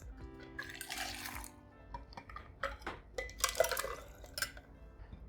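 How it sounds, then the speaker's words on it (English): Honey-syrup cocktail rolled and tossed back and forth between mixing vessels: a run of clinking, sloshing pours and liquid splashes in short bursts, near and fairly quiet, with no talking. "Rolling, tossing. Tossing the drink."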